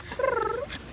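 A single cat gives one drawn-out meow with rising and falling harmonics, close and fairly loud, with no talking around it.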